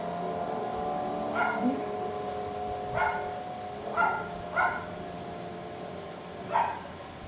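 A dog in the Dragon Age 2 video game gives about five separate barks spaced irregularly over several seconds. The barks are mid-distance and moderately loud over a constant low background hum, with no talking.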